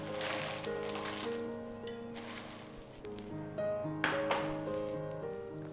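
Dried red chilies go into a pan with faint clinks and light metallic taps, quiet kitchen clatter with a few ringing utensil tones over several seconds.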